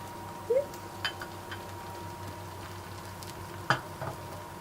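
Masala French toast, bread topped with a spiced egg mixture, frying in a pan, giving a soft, steady sizzle with a few light scraping and tapping clicks close by.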